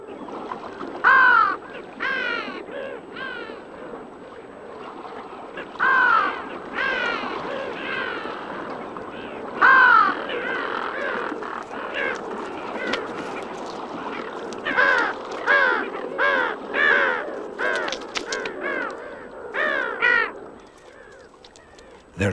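Gulls call repeatedly over a cold, clear mountain lake in the Pamir where they nest with their chicks. Harsh, fairly close cries sound in clusters across a constant wash of open-air background noise.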